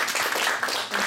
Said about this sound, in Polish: Szczególne brawa tutaj.